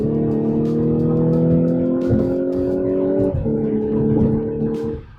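A 2017 Audi S5 B8.5 accelerates hard, its engine note climbing steadily in a loud, close, sustained pull with a brief dip at a gear change before rising again.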